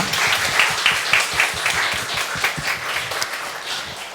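A church congregation applauds a youth group after its worship songs and performance, steady dense clapping filling the room for about four seconds without pause.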